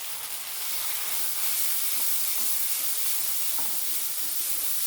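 Spices with salt, turmeric and Kashmiri chili powder fry in a pan for a vegetarian Bengali eggplant dish, giving a steady close sizzling hiss that swells slightly and holds, with faint crackles and no talking.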